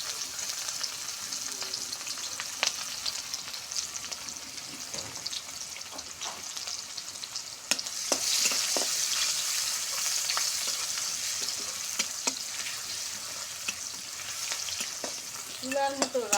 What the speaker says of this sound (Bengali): তেলে দালচিনি, তেজপাতা, সাদা এলাচ আর পেঁয়াজ কুচি দিয়ে দিলাম।